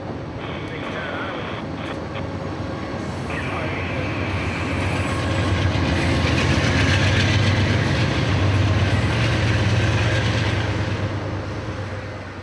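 Amtrak's Silver Meteor passenger train rolls off the main line onto a connecting track in Auburndale, Florida, with steady wheel and rail rumble building as it passes nearby, plus some wind noise and a brief high squeal early on.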